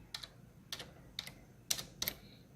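Typing on a computer keyboard: five short, crisp key clicks spaced about half a second apart, close and quiet, with no talking.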